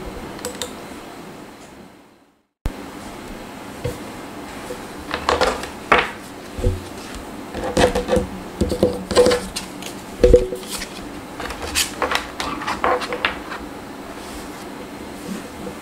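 Tarot cards are laid out one by one on a table for a reading, making soft, irregular taps and light slaps close by, with brief shuffling between them and a short silence near the start.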